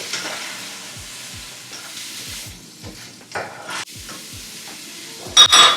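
Pineapple curry being stirred in a pan, with a spoon scraping and clacking in an irregular rhythm over a soft steady sizzle, close up, with a louder clatter near the end.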